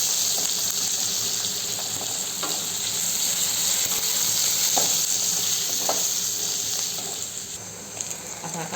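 Onion frying in a pan for shevyacha upma, a steady close sizzle that carries on without a break for several seconds, with faint scrapes of stirring and no talking.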